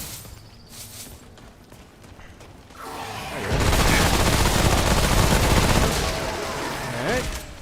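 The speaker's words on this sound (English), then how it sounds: "So you can see how good the SMG is for up close and personal fighting." Rapid submachine gun bursts in the video game Remnant: From the Ashes, starting after a few quieter seconds and then firing loud and sustained close up, with game ambience beneath.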